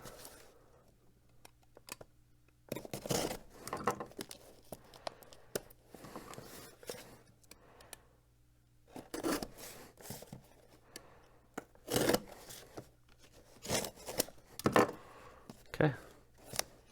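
Scissors snipping into a mail package, soft scattered clicks and rustles in a quiet room, some bursts denser than others, with a person talking at times.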